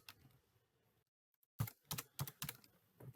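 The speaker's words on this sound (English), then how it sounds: "if I type in George" Keys clatter on a computer keyboard while text is entered in a photo-editing program: a few close, crisp bursts of tapping after a short pause, clustered in quick groups, with no voice.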